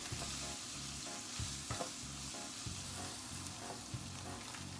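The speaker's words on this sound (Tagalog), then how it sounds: "Ayan, halo-haloin ulit natin." Spaghetti sauce being stirred in a frying pan, a steady sizzle and bubbling with repeated scraping strokes of the spoon at an even rhythm, close and continuous, no talking.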